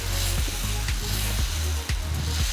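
Dosa batter sizzles loudly on a seasoned iron dosa tawa, a close, steady hiss with faint scraping as the batter is spread around the pan.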